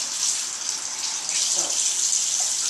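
Cool tap water runs steadily into a neti pot, a continuous hissing gush that stays close and even throughout.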